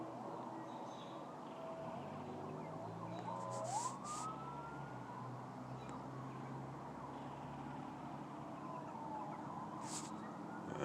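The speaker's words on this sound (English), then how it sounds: "now we got sirens off in the distance" Faint sirens wail far off, one rising tone sliding up and fading, over a quiet background hum.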